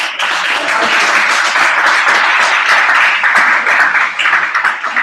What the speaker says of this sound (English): I'd love to give another round of applause for our first three presenters